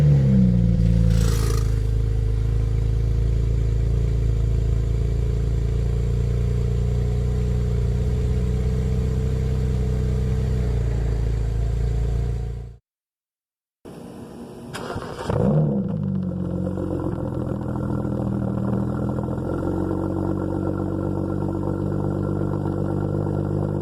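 A car exhaust fitted with an exhaust valve mod rumbles in a steady, loud low idle, then cuts to silence briefly, restarts with a sharp rev, and settles back into a deep idle.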